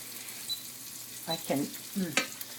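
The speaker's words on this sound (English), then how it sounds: "I'm adding in the sage here to release the smell and to give it a nice stir around." Sage leaves fry in a pan and get stirred around, giving a soft background sizzle broken by a few scraping stirs and clinks near the end, close and fairly quiet.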